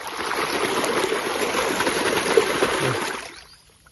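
Water gushing steadily from a borewell in a village, a loud continuous rushing flow that holds for several seconds before cutting off abruptly near the end.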